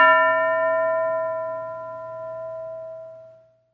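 A single bell strike during a classroom English lesson rings loud and clear, its tone sustaining and slowly fading over a few seconds before stopping, with no voices.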